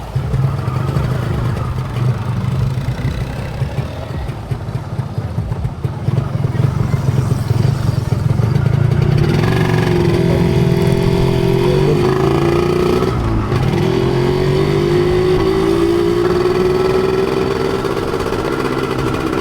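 A Yamaha 125ZR motorcycle engine with a standard exhaust pipe runs loud and close, idling with a rattling two-stroke burble before revving up into a rising, sustained whine.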